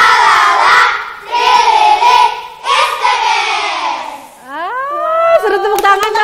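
Elementary schoolchildren at SDN No. 61 Kota Timur loudly chant their group cheer in unison, a few shouted phrases in bursts that end in excited squeals and scattered claps.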